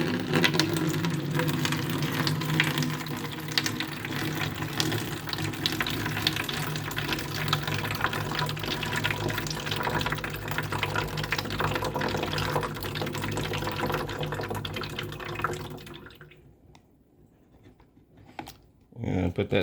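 Liquid from a first bottle is poured into a one-gallon container while mixing a plant grow solution, giving a steady close rush of running liquid for about sixteen seconds before it cuts off into near quiet.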